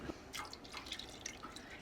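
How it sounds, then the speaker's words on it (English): Water trickling in small drips into a pot of warm cheese curds being heated to about 80 degrees, a quiet, soft, irregular patter close by. "we'll just add a little bit of water at a time"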